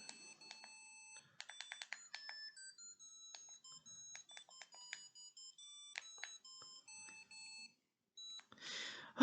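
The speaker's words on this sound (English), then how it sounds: "It's got the Tetris theme. Yeah, fine, sure, but it's playing it through a piezo speaker" Tetris theme from a micro arcade handheld played through a thin piezo speaker, a faint tinny string of beeping notes that ends in a short louder burst.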